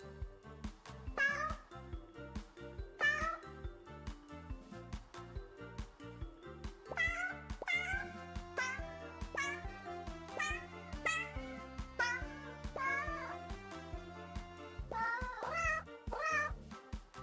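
A cat meowing repeatedly over a steady rhythmic musical backing, the meows loud and close, rising and falling in a series of drawn-out cries with no talk.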